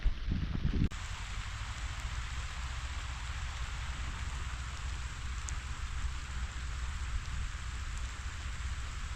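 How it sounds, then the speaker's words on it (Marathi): Steady rain falls in an even, hissing wash, with a brief knock at the very start and no voices. "पाऊस चालूच आहे झाडाखाली बसलोय"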